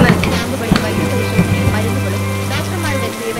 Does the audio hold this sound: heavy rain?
yes